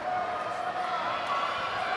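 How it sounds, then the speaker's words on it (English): Crowd shouting and cheering at a youth bouldering competition final, a steady loud wash of many voices sustained throughout, with a commentator's voice mixed in. "We could hear the shout from the crowd."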